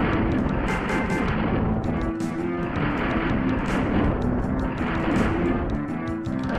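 A plasma gun in SNES Doom keeps up a steady, dense, buzzing barrage, loud and continuous throughout with slight pulsing, alone without talk.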